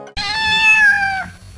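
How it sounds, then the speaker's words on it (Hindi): A single loud, close cat meow with a drawn-out, slightly falling wail lasts about a second, standing alone against a quiet background. "अचानक बिल्ली की आवाज आई।"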